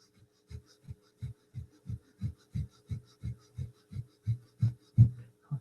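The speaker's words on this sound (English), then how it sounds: "rapidly breathing at your own pace" Quick rhythmic nasal breath-of-fire exhalations, about sixteen short low puffs in steady rhythm, close-miked and alone.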